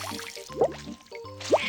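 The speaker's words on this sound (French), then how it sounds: "Avant de commencer, je me lave les mains avec du savon." Hands are washed with soap and water in a cartoon cooking scene: a couple of brief wet drips and squishy splashes, quiet and close, with faint tonal music underneath.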